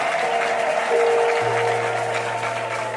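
Congregation applause at a prayer service, steady crowd clapping held throughout at even loudness, with sustained keyboard or organ tones beneath.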